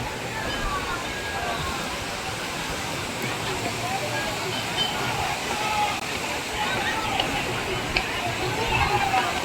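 A hidden waterfall in Mirzapur with visitors watching, heard as a continuous loud rushing roar of falling water nearby, with voices mixed into the noise.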